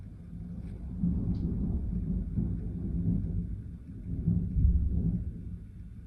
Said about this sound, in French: Mais il pleut même pas en fait, il est juste du tonnerre